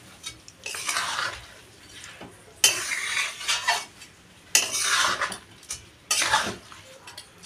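A spoon stirs and scrapes soaked rice around a metal pot while making chicken pulao, in four separate bursts of clattering, gritty scraping with short quiet gaps between them.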